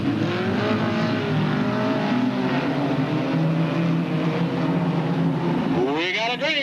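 Race cars circle a short-track oval at Delta Speedway in 1996 during a 10-lap race, a loud, sustained engine roar with rising and falling pitch as cars pass close by, while an announcer talks over it.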